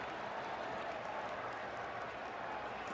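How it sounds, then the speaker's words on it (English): Stadium crowd noise during a Lions versus Packers NFL game, a steady dense roar and scattered applause reacting to a replay, continuous and fairly distant throughout. "Crowd responding to a replay."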